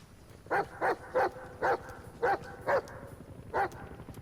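D-Dog, the canine companion in Metal Gear Solid V: The Phantom Pain, gives seven short, evenly spaced barks or yips over a soft game soundscape, with no one talking.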